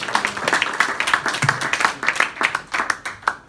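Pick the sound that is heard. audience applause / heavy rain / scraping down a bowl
audience applause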